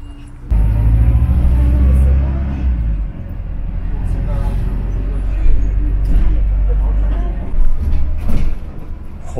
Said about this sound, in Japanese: 17番のバスに乗車しました。